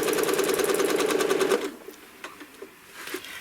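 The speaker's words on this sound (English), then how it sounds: "I'm going to stitch back, and I'm going to put it here on the line," A home sewing machine stitches along a curved ruler in a fast, steady, loud run for about a second and a half, then stops, leaving only faint handling clicks and taps.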